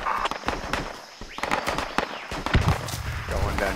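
Gunfire in the tactical shooter Project Reality: sharp, rapid shots in irregular bursts, some close and loud, others more distant, mixed with footsteps and players' voices.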